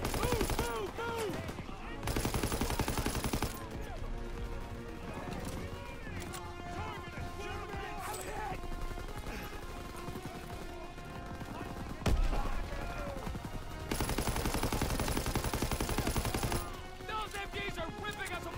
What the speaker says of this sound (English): Those MGs are ripping us apart!